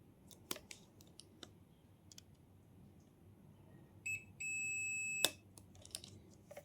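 A multimeter on continuity mode, probing a diode in an SMPS board, emits a steady electronic beep lasting about a second amid quiet clicks of the probes, close and clear with no talk.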